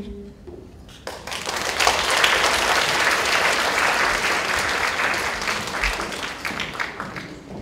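A university lecture-hall audience breaks into warm applause welcoming guest teachers onto the stage, swelling after a brief quiet start into a full, sustained wash of clapping that holds steady to the end.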